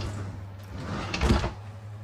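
A slide-out drawer beneath a French door Everchill refrigerator in a toy hauler RV is pulled or pushed shut, giving a brief sliding thump midway against a steady low appliance hum.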